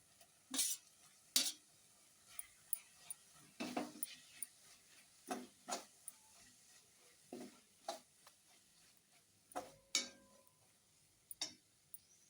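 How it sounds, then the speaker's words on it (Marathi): A spatula stirs steamed fenugreek greens in a pan for a garlicky fenugreek dish, making quiet, irregular scraping strokes with faint sizzling in between. "त्यामध्ये वाफवून घेतलेली मेथीची भाजी घालून घेऊ"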